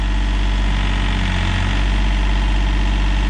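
A John Deere 5036 EN tractor engine runs steadily in a field, a loud, continuous low diesel drone that holds even from start to finish.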